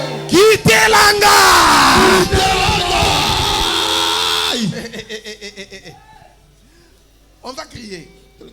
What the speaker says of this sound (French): On va crier 3 fois, ça c'est la première fois.